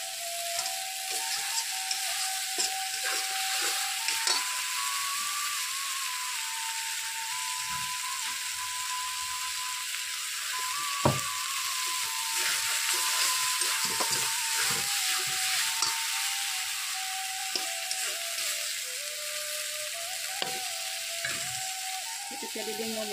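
Mustard seeds and whole spices frying in a pan for an Assamese dish, a steady close sizzle with frequent light crackles and stirring scrapes throughout, no talk.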